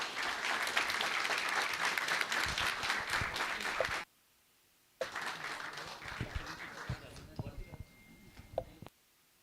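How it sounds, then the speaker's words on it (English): Conference audience in a hall breaks into loud, sustained applause, stops for a moment, then claps again more raggedly before fading out. "Let's give her a warm round of applause."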